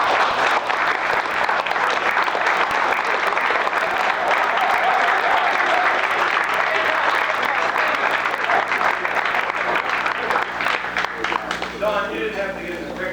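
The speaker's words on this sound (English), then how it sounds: "these kids really deserve a great round of applause" Sustained applause from a banquet crowd honouring a championship high school football team and their coach, a dense, loud wash of clapping that carries on for many seconds, with some voices mixed in before it fades slightly at the end.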